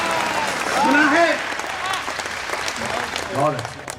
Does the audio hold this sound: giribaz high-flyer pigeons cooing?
no